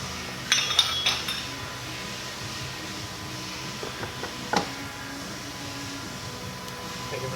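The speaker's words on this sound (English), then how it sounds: "I always put the cartridge into the compressor housing first." Metal parts of a rebuilt Holset diesel turbocharger clink and scrape as the cartridge is seated into its compressor housing, a few close, light metallic knocks and taps separated by quiet gaps.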